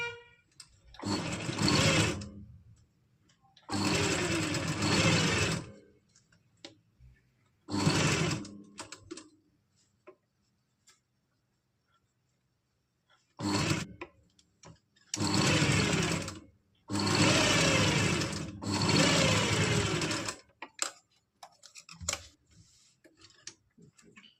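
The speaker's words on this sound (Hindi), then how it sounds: "सिलाई लगाने के बाद अब हम यहाँ पर एक सिलाई लगा देंगे, जिससे इसमें एक अच्छी फिनिशिंग आएगी।" A sewing machine stitches an umbrella frock with piping work, running in several separate bursts of a few seconds each with short pauses between them. It is close and fairly loud.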